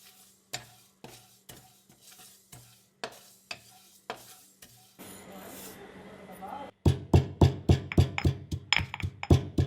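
Sesame seeds roasting in a pan over a medium flame, with rhythmic scraping strokes of a spoon or spatula, a short stretch of dry sizzling, then louder, faster stirring knocks near the end.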